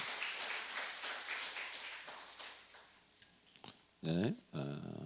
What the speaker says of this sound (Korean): 우리 하나님께 영광의 박수 드립니다.